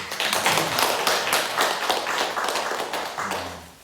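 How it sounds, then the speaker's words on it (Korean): Church congregation clapping together in welcome of returning members after a prayer, a dense, steady patter of many hands filling the room for several seconds before tapering off. "우리 박수로 환영하겠습니다."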